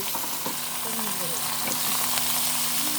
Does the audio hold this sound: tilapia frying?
yes